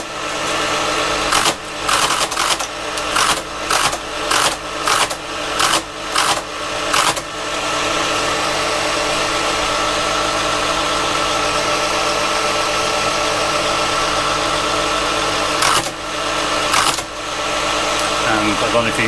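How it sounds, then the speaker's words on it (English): A Creed 7B Mark 1 teleprinter printing typed text, rapid rhythmic mechanical clatter in bursts over a steady motor hum, loud and close, with a pause of humming before more bursts of printing. "it's printing exactly what I'm typing"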